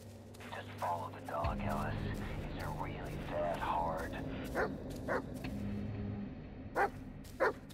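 A dog in the horror video game Blair Witch gives a series of yips and barks over dark ambient game sound. They start under people's voices, then come alone as short, separate barks toward the end.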